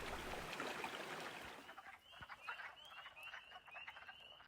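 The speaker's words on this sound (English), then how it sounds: "pickerel frogs, gray tree frogs, and American toads, all within a quarter-mile radius of the pond." Pickerel frogs, gray tree frogs and American toads call together near a woodland pond at night, a dense chorus of croaks and rattling calls with a run of repeated high trills toward the end.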